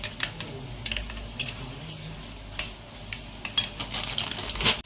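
A spoon stirs cornflour into water in a bowl while making chilli chicken, producing repeated close metallic clinks and scrapes in an irregular rhythm, with no one speaking.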